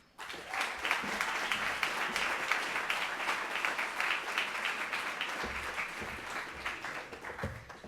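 Sustained audience applause greets a speaker from a crowded lecture hall, dense steady clapping lasting throughout and tapering slightly near the end.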